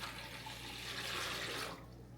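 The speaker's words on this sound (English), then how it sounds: "So we'll put our water mixture in." Water is poured into a bucket to mix with lye for cold process soap, a close steady splashing pour lasting under two seconds before cutting off.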